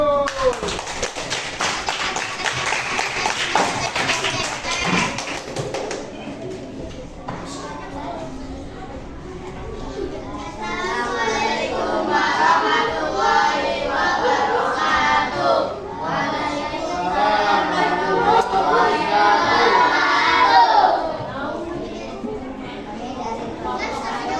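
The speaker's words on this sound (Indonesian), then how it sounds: "Beri aplaus untuk kelompok 1." A classroom group claps together for the first group about to present, with steady, dense applause swelling and fading over many seconds, mixed with crowd chatter and voices.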